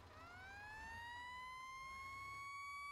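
A fire truck siren in a firefighting video game winds up from a low pitch and settles into a steady, clear wail, fairly quiet and alone.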